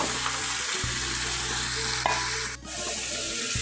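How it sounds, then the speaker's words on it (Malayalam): Washed chicken pieces sizzle steadily in a hot pan with curry leaves, the frying hiss loud and continuous with a brief scrape of stirring near the end. "ഇനി നമ്മൾ കഴുകി വെച്ച ചിക്കൻ ഇട്ട് കൊടുക്കാം."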